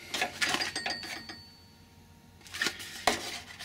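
Metal cutlery clinks and rattles in a hotel room drawer in short bursts, a quiet lull in the middle, then more jangling clatter nearby.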